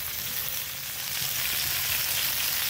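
Mushrooms fry in oil in a pan over a campfire, a steady, loud, close hiss and sizzle with faint popping throughout and no voices.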